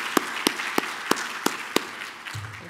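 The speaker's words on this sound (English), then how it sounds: "give a round of applause" Applause from an audience at an awards ceremony, heard as a steady wash of hands with six evenly spaced sharp claps standing out, fairly distant and moderately loud.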